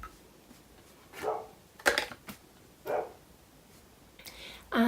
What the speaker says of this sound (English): Just ignore the dog barking next door.